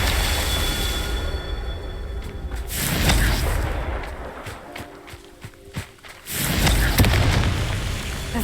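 In the Hogwarts Legacy video game, the Confringo fire spell goes off as booming blasts. There is a heavy burst around the middle and a louder, rumbling explosion near the end, with dense game noise throughout.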